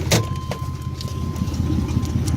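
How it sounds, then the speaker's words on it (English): A turbocharged Chevrolet S10 V6 with a 5-speed idles up close after warming up, giving a steady, low, lumpy rumble that runs without a break. "A little bit of a slower, lopier idle once it warms up."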